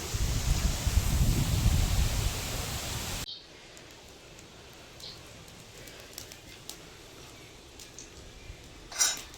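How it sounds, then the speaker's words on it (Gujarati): Strong wind roars and buffets loudly for a few seconds, then drops away to a quiet background with faint rustles. "બહાર બહુ પવન છે"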